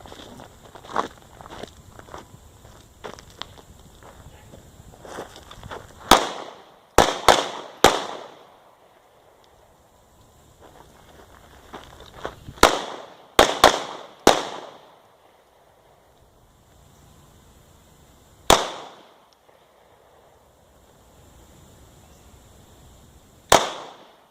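HK USP Compact LEM pistol fired in a 1-2-1 drill at targets 3 and 7 yards away, sharp close shots in spaced groups of one, two, then one, with quieter handling and shuffling noises between them.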